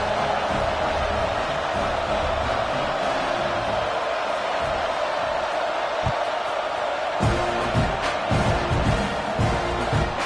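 A football stadium crowd just after a touchdown makes a steady, broad roar of many voices that carries on, with a little more stirring near the end.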